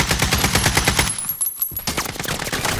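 Rapid machine-gun fire in Call of Duty: Modern Warfare, loud close bursts of evenly spaced shots with a brief gap before the firing resumes.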